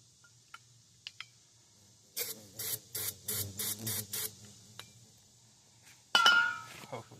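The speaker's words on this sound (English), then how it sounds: "Now what I'm going to spray down her gullet is just some Carb and choke cleaner." Gumout carb and choke cleaner sprays into the carburetor of a Kohler K301 engine in a series of about six short, sharp hissing bursts, followed by a metallic clink, with faint clicks before.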